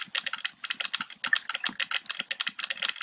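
Rapid keyboard typing in the video game Emily is Away: quick, close, crisp key clicks in an uneven continuous stream, alone without talk.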